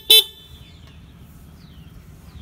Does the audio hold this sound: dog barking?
no